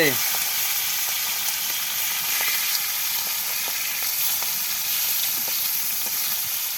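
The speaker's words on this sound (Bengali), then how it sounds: "মশলাগুলো আবার কষিয়ে লতি দিয়ে দিব" Spices sizzle and fry in a pan for taro stolon curry, a steady close hiss running throughout with occasional faint stirring scrapes.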